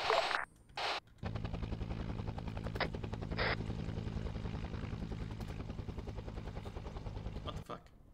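Sustained rapid gunfire from an anti-aircraft gun firing tracers in a Vietnam War video game, dense and loud for several seconds after brief opening bursts, with a helicopter droning underneath and radio-style voices talking over it.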